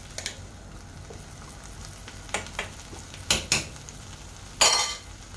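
Shrimp, vegetables and coconut milk cooking in a pan for Filipino ginataang gulay, a steady low sizzle broken by several sharp clinks and scrapes of a utensil stirring against the pan, no talking.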